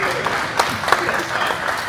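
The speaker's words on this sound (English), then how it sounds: "So let's give a round of applause for the pancake breakfast." Audience applauding in an aircraft hangar at a PA-32 fly-in morning gathering, steady crowd clapping with a few sharper individual claps and some murmuring voices mixed in.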